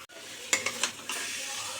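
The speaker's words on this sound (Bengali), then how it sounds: "এবার চিকেনগুলো ঢেলে দেবো।" Marinated chicken tipped into a pan of hot, fried-down masala gives a few clattering thumps, then a sudden broad, steady sizzle that carries on close and fairly loud, with no talking.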